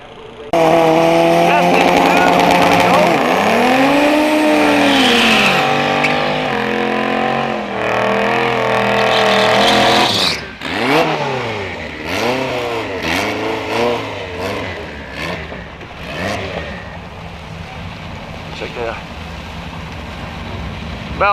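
Drag race cars on a dragway during test and tune night at St Thomas Dragway, a loud engine revving near before launching away with a roaring rise, then fading as more engines and revs sound further off.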